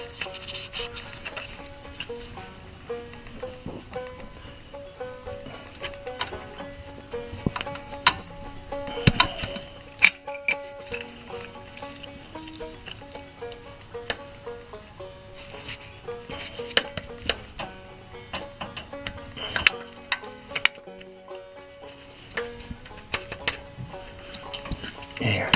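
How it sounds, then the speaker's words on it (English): Wrench working an exhaust manifold bolt on a 1950 Crosley Hot Shot, giving faint, irregular metallic ticks and clicks close by over a quiet background. "I got the wrench onto it and got it to turn."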